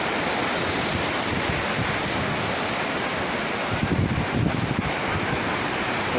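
Sea waves at Tajpur beach at low tide make a steady, loud, rushing surf roar mixed with wind buffeting the microphone, continuous throughout with no voices.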